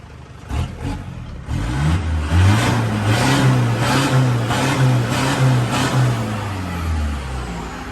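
An Isuzu Rodeo 4x4 pickup engine cranks briefly and fires up, then settles into a loud, close idle with rising and falling revs, a steady mechanical rumble that holds to the end.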